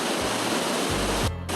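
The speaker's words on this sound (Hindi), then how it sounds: "आवाज़ देख रहे हैं पानी की कितनी तेज़ है, सच में प्रेशर बहुत तेज़ है पानी का यहाँ पे।" Sahastradhara waterfall near Dehradun, water rushing down with strong pressure, fills the scene with a steady, loud, close roar of broadband noise that never lets up.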